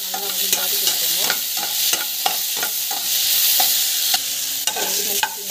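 Onions sautéing in a pan, a steady loud sizzle of frying broken by repeated scrapes and knocks of a spoon stirring against the metal, with no talking.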